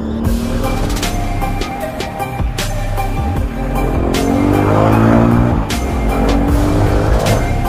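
Powerful Jaguar car with a double exhaust drives past loudly, its engine roaring steadily with rising revs and a brief tyre squeal near the middle, no voices present.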